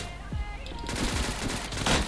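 Gunfire in the battle royale game Surviv.io, a burst of rapid shots with sharp repeated cracks under a noisy mix, with players talking over it.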